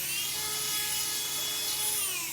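A grinder whines at high speed with a steady, unbroken tone that holds throughout, loud and close, with no voices over it.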